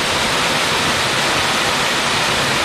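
Yongchu Waterfall in the mountains of Goesan, Chungbuk, pours in a steady, loud broadband roar that holds unchanged throughout, with no voices over it.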